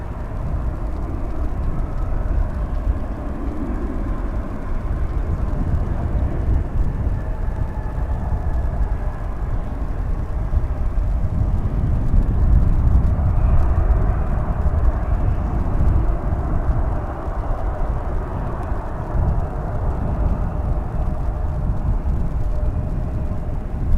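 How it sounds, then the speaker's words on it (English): At DFW Airport, one plane takes off while another lands on the runways. A loud, steady jet engine roar rumbles for the whole stretch from a distance and peaks around the middle, with no talk over it. "About to get some double barrel action here on the runways as this plane takes off and another one lands."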